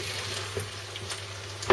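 Vegetables for fritada cook in a covered pan over medium heat, giving a soft, steady sizzle with a few faint scraping stir sounds and a brief louder clack near the end.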